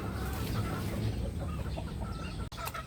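Backyard chickens and a gray rooster cluck steadily at close range, a dense overlapping chatter of fowl that carries on without a break.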